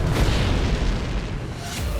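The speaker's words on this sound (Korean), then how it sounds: "페남기마저도 폭발하고 만다." A Pan Am jumbo jet explodes on the runway in a reenactment of the Tenerife airport disaster, a loud, continuous low-heavy boom and roar filling the whole moment.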